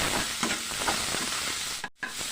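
Vegetables and spices frying in a pan for ribbon Maggi, stirred with a steady close sizzle and scraping, broken by a brief cut near the end.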